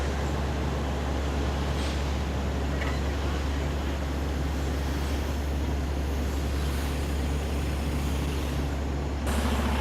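A grape truck pulls up to the crush pad during harvest at Columbia Crest, with a steady low engine rumble and broadband machinery noise that runs continuously for the whole stretch.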